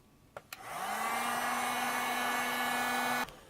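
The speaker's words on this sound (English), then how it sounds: "And the heat gun pretty much brought it right out." After two clicks, a heat gun whirs up and blows steadily for about three seconds while heating painted EVA foam, then cuts off. The close, even roar carries a faint tone and no talk.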